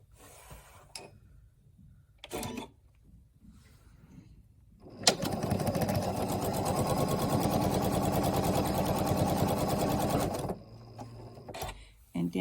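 A sewing machine stitches quilt block pieces together, a loud steady mechanical whir running for about five seconds after a few soft handling noises, with a person talking around it.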